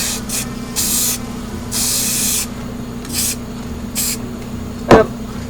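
A spray can hisses in short repeated bursts of varying length while a garden beehive is spray painted close up, with a soft knock near the end and no talking.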